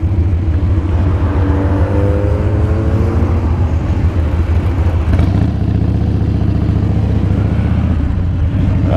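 Several Mazda Miatas drive past on a road ride, their engines revving loudly and steadily up close, one car's pitch rising and sweeping through mid-way as another passes.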